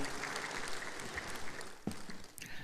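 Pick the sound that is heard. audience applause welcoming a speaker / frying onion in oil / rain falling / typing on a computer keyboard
audience applause welcoming a speaker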